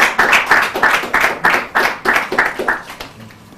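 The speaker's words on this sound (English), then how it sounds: "He still deserves a round of applause." Audience at a church Bible contest between Salvation Army Church and Divine Healers claps in a steady round of applause, a dense rhythmic patter of many hands that builds and then tapers off near the end.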